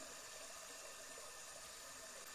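Running water in the Phasmophobia video game at Maple Lodge Campsite, a constant faint hiss of a flowing tap or shower, steady and even throughout with no talking.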